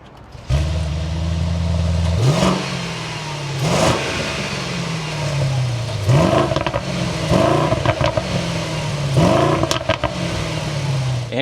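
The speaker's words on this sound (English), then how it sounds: "But let's fire this up now. Take a listen to how this AMG sounds." A Mercedes-Benz GLS 63 AMG V8 starts with a sharp flare, then idles and is blipped through a series of quick throttle revs that rise and fall, loud and close with no voices.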